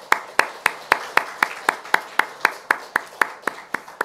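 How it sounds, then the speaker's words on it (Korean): Congregation at a Sunday church service clapping in welcome for a newly registered member, a steady, even rhythm of about four claps per second, sharp and close, with no voices over it. "우리 박수로 환영하겠습니다"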